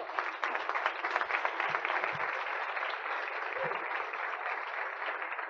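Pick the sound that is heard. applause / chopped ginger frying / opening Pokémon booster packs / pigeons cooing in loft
applause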